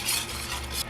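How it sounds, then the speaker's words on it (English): Salt and pepper being stirred into a pot, a soft continuous scraping and swishing with faint sizzle-like hiss, close and steady for a brief moment. "And just stir that in."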